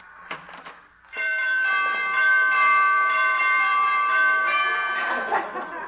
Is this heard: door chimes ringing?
yes